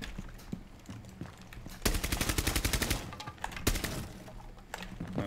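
Gunfire in the tactical shooter Rainbow Six Siege: loud bursts of rapid automatic shots, a long rattling volley near the middle and a shorter burst later, over quieter game ambience.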